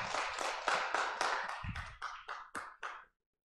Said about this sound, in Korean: 하나님 큰 영광의 박수 올렸습니다.